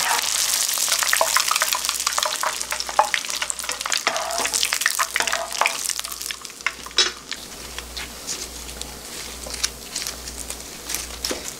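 Pollock skin deep frying in hot oil gives a loud, dense crackle and fizz close up, with bursts of spattering and stirring throughout and no speech.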